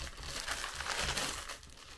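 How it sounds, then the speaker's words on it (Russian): A plastic package bag is torn open up close, making soft continuous crinkling and rustling for about two seconds. The sound is faint and there is no speech. "Вот он, пакетик порвался."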